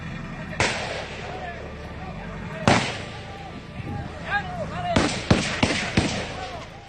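Gunfire in a police shootout captured on an officer's body camera in Albuquerque: several sharp, loud broadband cracks, one early, one mid-clip and a rapid cluster near the end, with shouting voices between the shots.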